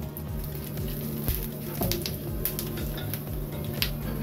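Bay leaf, dried chilli, green cardamom, sugar and cumin frying in hot oil, giving a steady, close crackle and patter with small pops throughout, no voices.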